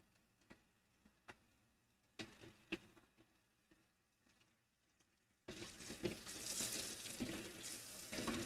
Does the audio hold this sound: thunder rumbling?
no